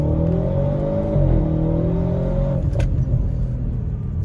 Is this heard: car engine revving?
yes